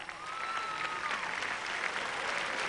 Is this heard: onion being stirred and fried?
no